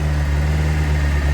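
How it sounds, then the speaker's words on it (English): A Honda CBR 600RR motorcycle engine idles steadily while warming up, an even, low mechanical hum with no change in revs across the short stretch. "Right, let's give it a good warm up and come back."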